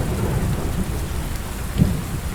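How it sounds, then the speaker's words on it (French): Steady rain falls in the survival video game Under A New Sun, a dense broadband hiss with a soft low rumble swelling near the end, heard alone without speech. "il pleut encore par contre"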